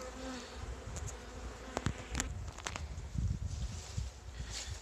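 Steady buzzing of many honeybees close by at a hive entrance, a continuous drone with occasional louder passes of individual bees flying near.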